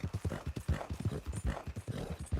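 A Tobiano American Paint horse gallops in Red Dead Redemption: fast, rhythmic hoofbeats pound close and loud in a continuous, driving clip-clop.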